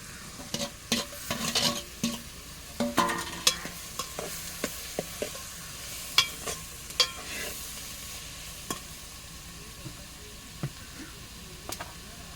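Okra being stirred into a fish and tamarind stew in a pan, soft scraping and clinking spoon strokes in an irregular rhythm over a faint sizzle, close and fairly quiet.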